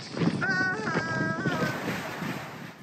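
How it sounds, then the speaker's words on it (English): Strong wind roars across the open deck of a cruise ship sailing the Baltic Sea, a steady, close buffeting rush with a brief voice calling out early on. "It's windy!"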